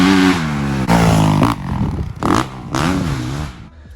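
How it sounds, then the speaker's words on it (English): A Honda CRF450R dirt bike engine revs hard in several sharp bursts, snapping up and dropping back between throttle blips, close and loud with no talking. "I'll insert a clip of the last time I rode a CRF450R"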